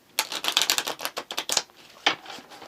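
A deck of tarot cards riffle-shuffled at close range, a fast rapid flutter of flicking cards followed by a brief second riffle.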